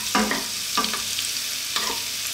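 Garlic frying in hot oil for a vegetable fried rice, stirred with a spoon: three short bursts of sizzling crackle with scraping strokes, close and moderately loud, no talking.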